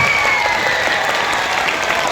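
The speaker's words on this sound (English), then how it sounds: "Let us all join our hands to give a big round of applause" Dense, even applause from schoolchildren and teachers at a Children's Day celebration fills the room, a steady wash of many hands clapping together without a break.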